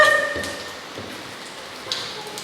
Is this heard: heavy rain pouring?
yes